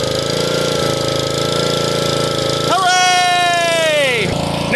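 A Husqvarna lawn mower engine runs after refuelling with a loud, close, steady drone, then rises to a higher whine before it cuts off near the end.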